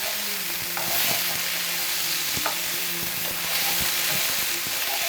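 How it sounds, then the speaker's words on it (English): Chicken breast seasoned with salt and pepper sizzles in a hot pan while a utensil stirs it, giving scraping knocks over a constant frying hiss, close and without speech. "And mix that all together."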